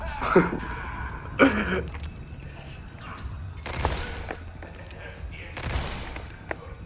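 Video game gunfire crackles in bursts, with several sharp volleys and a few scattered single shots at moderate loudness, and a voice talks in between.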